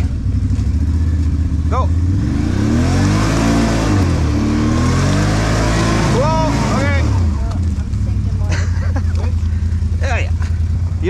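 A four-wheel drive vehicle revving hard through deep mud, its engine surging up and down in loud, sweeping pitch bursts with sharp accelerations, while people shout and talk over it.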